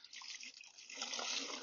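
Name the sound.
wiping a car with a wet rag and water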